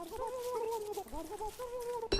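A Gobbler bird in the video game Don't Starve clucks and gobbles in quick wavering bursts, fairly faint over soft background game sounds.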